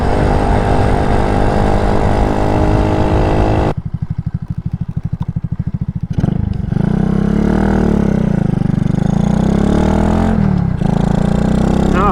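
A Honda clone motorcycle engine with a modified exhaust runs nearby and loud, with a steady buzzing drone, a brief lull to a lumpy idle, then revs rising and falling again.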